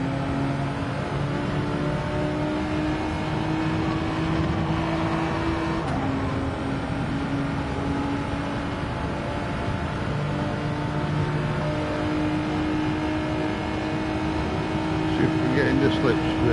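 A race car engine in Gran Turismo 7 drones steadily while running in another car's slipstream, its pitch shifting with gear changes, with a voice talking over it.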